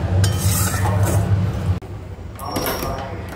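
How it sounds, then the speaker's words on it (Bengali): Spices fry in a wok-like kadai while being stirred, with steady scraping and sizzling that breaks off briefly midway, then resumes more lightly. "এদিকে ভাতও ফুটছে আর এদিকে মশলা কষাচ্ছি"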